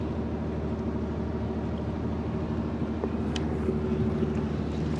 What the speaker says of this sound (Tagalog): kung maririnig niyo po yung makina, talagang nagre-revolution siya para ma-force yung bangka na lumutang